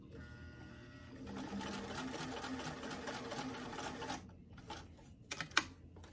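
A sewing machine runs steadily for about three seconds, stitching the sleeve seam of a Robert Tonner doll dress, then stops and gives a few short, sharp bursts of stitching.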